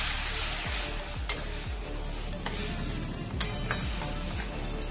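Whisked spice paste for a Bengali fish curry fries in hot oil while being stirred, a steady close sizzle broken by repeated scraping strokes and a few sharp clinks, no voices.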